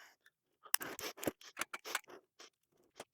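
Scissors are handled and snip close by in quick, irregular clicks and crisp cuts during indoor greenhouse setup, fairly quiet with no talking.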